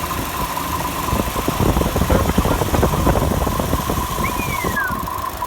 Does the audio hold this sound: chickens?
no